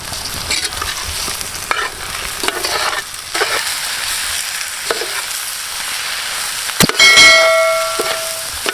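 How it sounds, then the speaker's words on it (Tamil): Chopped country chicken liver sizzles steadily in a hot pan while a utensil scrapes and stirs, with a sharp metallic clang and a ringing tone near the end. "இப்போ நம்ம நறுக்கி வச்ச நாட்டுக்கோழி ஈரலை சேர்த்துருவோம்"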